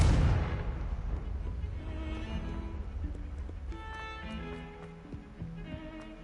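A Confringo spell blast in the Hogwarts Legacy video game lands as a single heavy boom that decays slowly, followed by faint crackling and tinkling magical effects.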